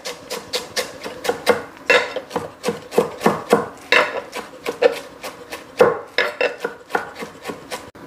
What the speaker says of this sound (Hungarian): lényegében gorombára össze fogom vágni, vagy aki úgy gondolja, lehet finomra is